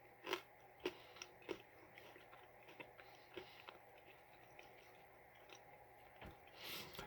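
Someone chewing a mochi ball, soft sticky mouth sounds with a few sharper wet clicks spread through a quiet stretch, close to the microphone and otherwise faint.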